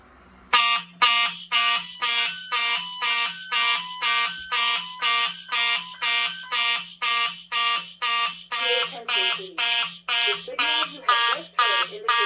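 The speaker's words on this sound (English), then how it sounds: "will be re-alarming the system once again by activating the SK Photo W and the SK Photo Classic with a magnet" Notifier NFS2-640 fire alarm system sounding after a photo smoke detector is triggered by magnet, a loud electronic horn pulsing in a regular fast on-off pattern, with a brief voice under it near the end.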